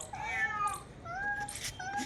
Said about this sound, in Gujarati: અત્યારે હા બિલાડી આવી ગઈ છે અત્યારે જો બતાવો તો હા જોરથી રાડ્યું નાખતી હતી